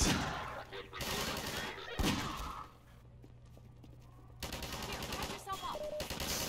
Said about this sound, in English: This pistol was like a magnum revolver.